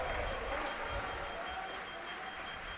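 Crowd applauding at a fencing tournament, with teammates among them, a dense steady wash of clapping that fills the whole moment, with commentary voices talking over it.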